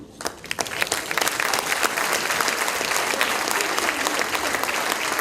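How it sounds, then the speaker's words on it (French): Sustained applause from a crowd at a general assembly of the Nacioun Gardiano in Barbentane, Provence, starting with scattered claps and quickly swelling into steady, dense clapping that continues evenly throughout. "Et applaudissez plus fort, Ginette"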